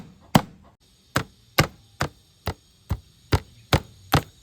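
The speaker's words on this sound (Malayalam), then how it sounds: "ഈ കാലിൻ്റെ ഭാഗത്തു മൊത്തതാ അടിച്ച് പരത്തിങ് എടുക്കട്ടോ." Chicken leg pieces pounded flat in a kitchen, with nine sharp, evenly spaced thuds about half a second apart, close and fairly loud with near silence between blows.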